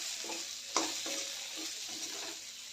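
A pan of pointed gourd with chaat masala, onion-garlic masala and crushed peanuts is being stirred, a spoon scraping in soft repeated strokes with one sharper knock against the pan over a faint steady sizzle.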